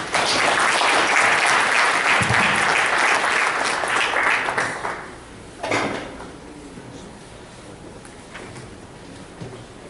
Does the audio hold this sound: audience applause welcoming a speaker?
yes